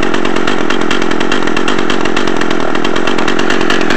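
An Echo CS-330T top-handle chainsaw with a 14-inch bar runs continuously at a loud, close, buzzing idle-to-high drone, steady and unbroken throughout with no voices.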